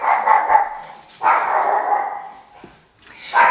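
A dog barks in drawn-out, whining bursts, close and loud, with short pauses between them, heard indoors on a rainy day with no talking.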